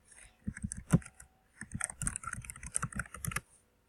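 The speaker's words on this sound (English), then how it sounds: "Alright, I'm just going to type it again." Keys clatter on a computer keyboard in quick close bursts, a short run of taps, a pause, then a longer rapid stretch of typing, with no voices.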